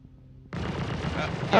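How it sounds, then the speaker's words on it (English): Turret guns in the space game Star Citizen open fire with a sudden burst of rapid, dense shots that stays loud to the end and swells at the close. "Looks like the guns are tracking you still."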